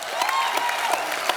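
Studio audience clapping for judges on a Hindi comedy talk show, a short burst of dense, fairly distant applause with scattered sharper claps.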